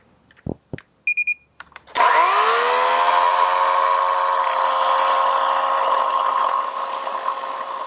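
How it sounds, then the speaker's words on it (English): A Kobalt 80V brushless battery chainsaw gives a few short clicks and whirs, then spins up to a loud, steady whine and cuts through wood, holding a continuous buzzing roar that eases slightly near the end. "Now with the chainsaw, you want the chain fully spinning before you touch the whatever you're cutting"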